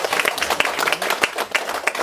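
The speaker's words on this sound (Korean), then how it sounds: "박수 드립니다." An audience at a literary gathering applauds, brisk clapping from a modest crowd with distinct sharp hand claps standing out, moderately loud and continuous for a couple of seconds without speech.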